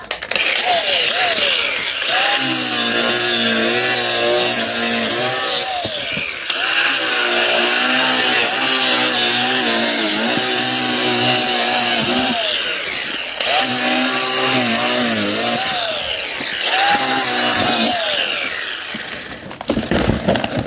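An angle grinder screams loudly in long bursts while cutting a cable sling. Its pitch dips and wavers under load, with short pauses between cuts.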